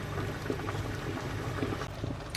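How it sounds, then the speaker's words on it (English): Butter bean and chicken cassoulet bubbling and boiling in a pan, a dense, steady close simmering rumble with soft popping throughout. "bring it to boil, then simmer for 6 to 8 minutes. So let's get it to bubble first"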